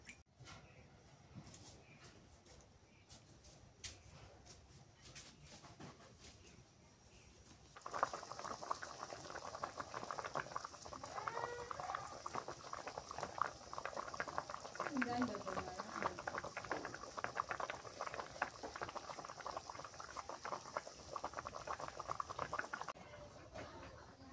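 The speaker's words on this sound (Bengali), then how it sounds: "মাছটা ভালো করে সেদ্ধ করা লাগবে" A large piece of fish boiling in a pot of water, a quiet start giving way to a steady bubbling rumble that lasts most of the stretch before easing, with a voice faintly present.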